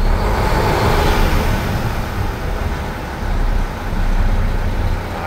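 Engine of a 2013 single-axle truck idling and being revved in several throttle blips, a deep rumbling roar that swells and eases close by, with no talking.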